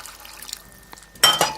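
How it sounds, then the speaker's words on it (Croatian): Water is poured into a pot of rice for a homemade djuveč casserole: a few faint clinks, then a brief, close splashing pour near the end. "naliti vodom"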